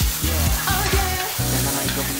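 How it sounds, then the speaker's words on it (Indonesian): Kimchi stir-fries in a hot pan, giving a loud, close, continuous sizzle with rhythmic scraping strokes of the spatula repeating every half second or so. "sekarang kita oseng-oseng dulu nih kimchinya"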